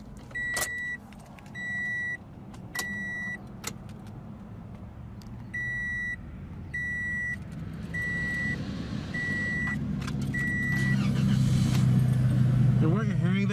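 The 1.8-liter inline four-cylinder of a 2017 Toyota Corolla starts and idles as a low, steady hum that grows slightly louder near the end, with a series of repeated electronic chimes over it.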